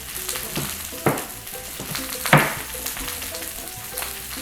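Garlic and serrano chili fry in oil in a pan alongside onion, giving a close, steady sizzle. A few louder bursts mark the moments when the food is stirred or more is added.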